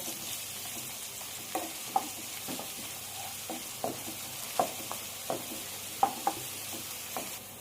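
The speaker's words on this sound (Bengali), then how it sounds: "এবার পেঁয়াজটা দিয়ে আমি 2-3 মিনিটের মতো একটু ভালো করে ভেজে নেব।" Chopped onion frying in oil during a chicken mandi cook, a steady moderate sizzle with regular scraping knocks of a spoon stirring the pan.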